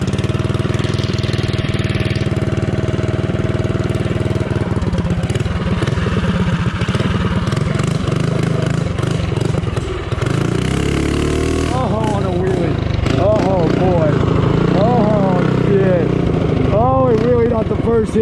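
A Baja Warrior minibike with a stage 3 Tillotson 212 engine runs loud and close, chugging at first, then revving up and down in repeated rising and falling pulls, with voices heard at times over the engine.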